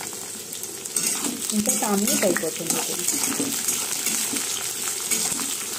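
Potatoes and onions fry and get stirred in a pan, a steady sizzle with occasional scraping clinks running beneath someone talking.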